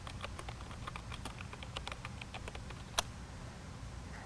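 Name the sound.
typing on a computer keyboard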